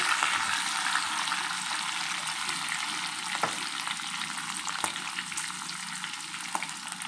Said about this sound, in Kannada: ಹಸಿಮೆಣಸಿನ್ಕಾಯಿ ಕರಿಬೇವು ಸೊಪ್ಪು ಚೆನ್ನಾಗಿ ಫ್ರೈ ಮಾಡ್ಕೋಬೇಕು